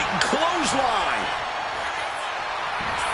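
A clothesline slam lands in WWE 2K26 with a couple of sharp, brief impacts early on. The hits sit under game crowd noise and wavering voices, followed by a steady arena roar.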